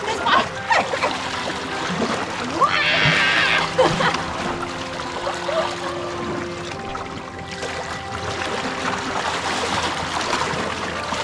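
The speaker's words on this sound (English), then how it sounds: "How much do I want to step in this water?" Feet step off cold, slippery rocks into chilly lake water at Isle Royale National Park, with light splashing and trickling along the shore and faint voices in the background.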